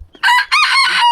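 A rooster crows loudly and close by in two bursts, the second long and drawn out, among chickens on a small farm.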